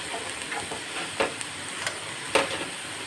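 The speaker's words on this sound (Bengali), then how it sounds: "ঢাকাটা খুলে এবার একটু নাড়াচাড়া করে দেবো।" Pumpkin stalk and greens curry is stirred in a pan, with a steady close sizzle and several sharp utensil scrapes and taps breaking through.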